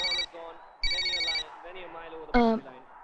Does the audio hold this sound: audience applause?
no